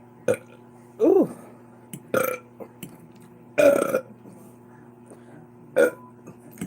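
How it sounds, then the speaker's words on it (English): A run of about five close, throaty burps from someone eating spaghetti on a livestream comes in uneven bursts, some short and some stretched, over a low background hum. "I know y'all ain't heard them burps in a long time."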